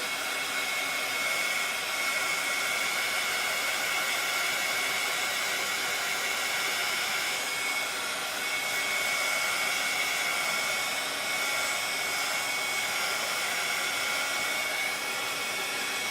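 A heat tool blows steadily over a piece of clay to dry it, giving a constant whooshing fan hiss with a thin high whine that holds level for a long stretch, close and alone.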